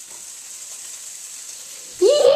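Salmon falafel frying in a lightly oiled pan, heard as a steady high sizzle and hiss, close by, with a voice briefly rising in at the end.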